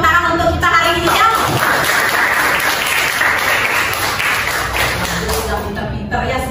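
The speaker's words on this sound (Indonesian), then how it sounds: "tepuk tangan untuk kita hari ini ya" A classroom of students claps together at the end of a lesson, a loud, close burst of steady hand clapping that fills the room and holds before easing slightly near the end.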